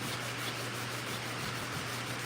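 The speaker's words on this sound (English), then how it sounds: "I'm sanding the bottom of this hood, getting it ready for epoxy." Steady abrasive sanding on the underside of a 1986 C10 truck hood, prepping it for 2K epoxy, a continuous even rasping hiss with a low hum beneath, with no breaks and no talking.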